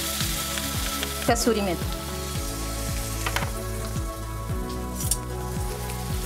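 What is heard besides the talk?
vegetables and pav bhaji masala frying in butter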